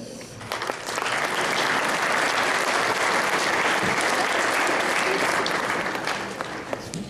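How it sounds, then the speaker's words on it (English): An audience at a middle school band concert gives seventh-grade musicians a sustained burst of applause, a dense, loud wash of clapping that rises quickly, holds for several seconds and then tapers, with some voices mixed in. "Let's give another round of applause for our seventh graders."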